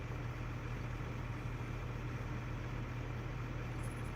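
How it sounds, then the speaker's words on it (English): Farm tractor engine running in the background on a farm, heard as a faint, steady low idling drone that holds constant throughout with no talk. "do you guys hear the tractor?"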